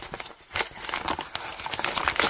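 Close, continuous crinkling and crackling as a sheet of paper is squished and crumpled by hand to make a faux-leather spiral-bound planner, with uneven surges and no speech.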